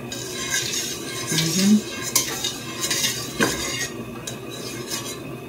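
Metal utensil scraping and clinking against a pan as flour is stirred into melted butter for clam chowder, with a few sharper taps, fairly close, no talking.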